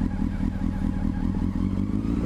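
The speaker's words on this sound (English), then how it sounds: "So that's the engine revving" Motorcycle engine revving in first gear with the clutch slightly let out, a steady close, loud mid-pitched growl with a pulsing rhythm and no voices over it.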